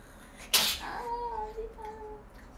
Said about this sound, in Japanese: じゃあくしゃみ